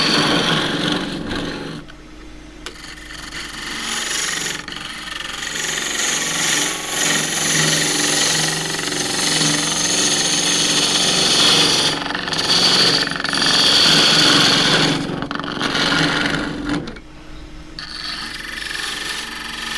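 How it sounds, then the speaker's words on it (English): Spindle gouge cutting dry jarrah burl on a wood lathe, a harsh, rough continuous scraping and chattering from the tool on the spinning wood, close and loud, with a few brief pauses. "Getting the last out of my spindle gouge."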